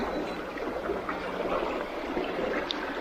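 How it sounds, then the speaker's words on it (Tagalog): A river runs with a strong current during the rainy season, giving a dense, continuous rushing wash with faint gurgles and no voices. "Grabe yung agos ngayon."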